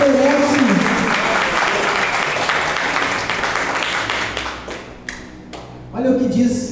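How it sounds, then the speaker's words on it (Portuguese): A church congregation claps loudly during a worship service, dense sustained applause filling most of the stretch before thinning out, with a voice speaking over it at the start and end. "Aplauda bem forte a Jesus."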